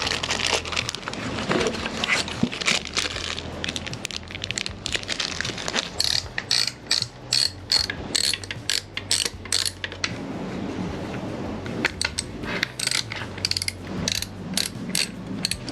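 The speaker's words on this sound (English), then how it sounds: "take out a few bolts to add a spacer" A ratchet wrench clicks rapidly while removing bolts so a spacer can be fitted, with dense metallic ratcheting in quick bursts, brief pauses, and then more fast clicking close to the microphone.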